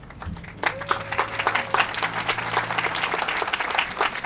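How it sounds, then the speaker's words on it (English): An audience breaks into steady applause, many hands clapping densely and evenly for the full few seconds, with a brief low tone near the start. "So please take just one moment and give a round of applause for Margaret Setzer Ramsey."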